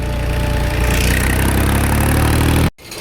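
A farm tractor's diesel engine runs loud and close, a steady low rumbling idle that cuts off abruptly near the end.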